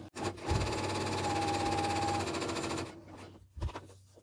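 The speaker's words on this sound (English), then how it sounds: "I'm going to do a gathering stitch right along the seam line, like at the 15 line or the 5/8 line" Sewing machine running a long gathering stitch along a 5/8 seam line with no backtacking, one steady close whirring run of about three seconds before it stops.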